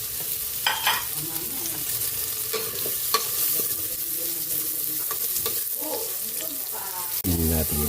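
Onion sautéing in a pan for pork sinigang, a steady sizzle with stirring and utensil scrapes throughout, close and moderately loud, with a louder clatter near the end.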